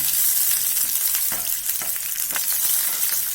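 A sliced green chilli frying in hot oil in a pan over medium flame, giving a loud continuous hiss and crackle with a few faint stirring clicks, no voices.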